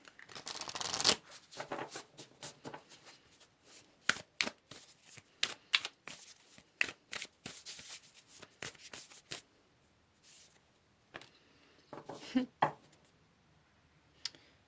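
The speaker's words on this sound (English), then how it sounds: "let's go ahead here and pull some more cards" Tarot cards being shuffled and pulled at close range: bursts of crisp riffling and flicking, then a series of separate sharp card snaps and slides with quiet gaps between them.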